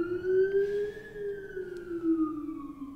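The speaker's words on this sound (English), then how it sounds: "Fire truck." A fire truck siren wails in a single long, slowly rising and falling tone, heard at moderate distance over a quiet street in Fairfield, with no talking.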